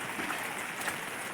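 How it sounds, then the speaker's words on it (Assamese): Steady rain falls along a village road in Assam, a soft continuous hiss of drops with no breaks and no voices. "বৰষুণ দি আছে তথাপিও যাই আছোঁ"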